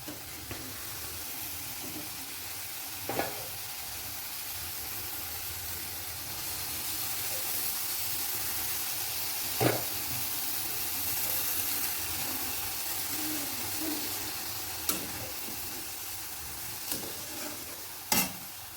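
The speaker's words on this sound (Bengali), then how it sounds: "শাকটা দিয়ে ভালোভাবে নাড়াচাড়া করে দিয়ে দেবো ঢাকা।" Greens fry in a pan with a low, steady hiss and sizzle and occasional sharp clicks and scrapes of stirring, fairly quiet and close, with no voices.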